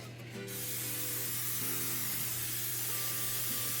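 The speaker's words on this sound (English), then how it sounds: "I'm just going to spray my pan with some cooking spray" A steady, continuous hiss of canola oil cooking spray from an aerosol can onto a muffin pan, sustained and close, with faint tones in the background.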